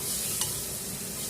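Chili powder and cumin powder fry in hot oil with ground mustard, a close, steady sizzle with faint stirring scrapes and no talking.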